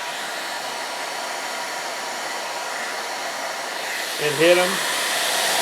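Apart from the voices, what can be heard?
hair dryer blowing on a salad plate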